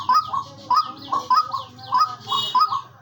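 Loud, repeated calls of a white-breasted waterhen close by, each a quick burst of harsh rising notes, coming in a steady rhythm one after another with no pauses.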